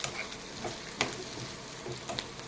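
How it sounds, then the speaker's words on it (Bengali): Spice masala sizzling steadily in a hot pan, a continuous close crackle of frying broken by a few sharper stirring scrapes and pops. "আমার দেখেন মশলাটা কিন্তু ভাজা হয়ে গেছে।"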